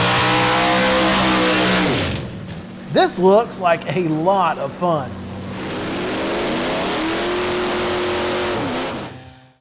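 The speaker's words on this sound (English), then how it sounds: "a good old country boy and really country girl event complete with truck tug-of-war and dirt drag racing." Old trucks rev hard at a country dirt drag racing event with truck tug-of-war, loud engine roars filling the start and end while someone talks briefly in the quieter middle.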